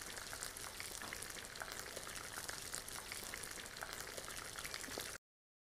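Chicken spring rolls frying in oil on medium heat, a dense steady crackling sizzle with scattered pops, quiet and continuous, cutting off abruptly near the end.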